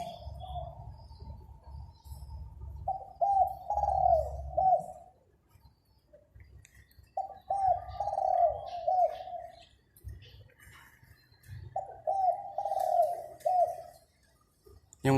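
A newly arrived caged bird in the morning gives three bouts of soft, rhythmic cooing calls, separated by quiet pauses, with faint low background noise between phrases.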